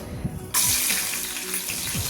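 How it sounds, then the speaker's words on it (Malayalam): After a quiet moment, a sudden loud sizzle bursts out as garlic cloves hit hot oil and keep crackling steadily. "ഒരു പത്ത് വെളുത്തുള്ളി അല്ലിയും കൂടെ ഇട്ട് മൂപ്പിച്ചെടുക്കണം"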